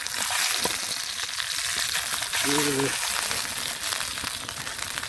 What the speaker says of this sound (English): Sausages cooked in a pan.